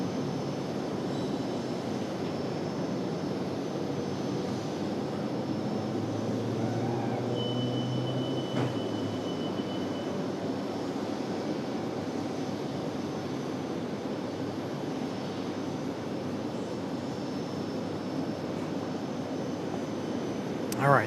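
A Republic Airways jet departs RDU, a steady, moderately distant engine rumble that persists for the whole stretch, with faint radio-style voices in the background.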